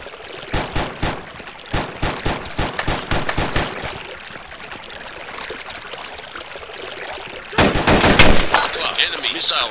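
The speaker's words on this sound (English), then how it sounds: "Enemy machine gun, medium range." Machine gun fire in the military game Arma 2: a steady run of rapid, evenly spaced shots at medium range, then a quieter stretch before a louder, denser burst near the end.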